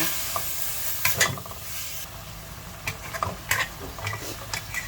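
Pork with basil and pickled bamboo shoots stir-fried in a pan, a steady sizzle broken by scattered scraping and clinking of the spatula, close and moderately loud with no talk.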